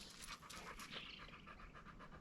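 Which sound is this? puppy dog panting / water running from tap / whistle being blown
puppy dog panting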